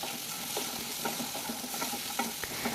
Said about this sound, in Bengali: একইভাবে আমি আলুটাকেও ভেজে নিচ্ছি